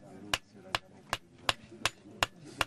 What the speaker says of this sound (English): they hammer out the blade.